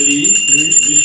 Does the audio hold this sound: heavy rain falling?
no